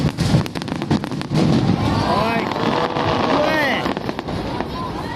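Fireworks burst at Odaiba in Tokyo, a dense run of cracks and crackling pops followed by rumbling booms and whistling trails, loud and somewhat distant, with people talking and wind noise in the mix.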